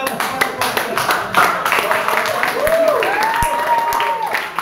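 Students in a classroom lesson clap their hands in a loose, scattered round of applause, with a voice speaking over the clapping.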